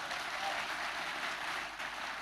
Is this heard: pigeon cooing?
no